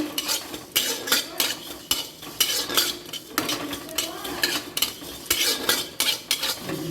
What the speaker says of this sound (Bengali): গ্যাস জ্বেলে দেওয়ার পর মৌরিগুলোকে ভেজে নেব।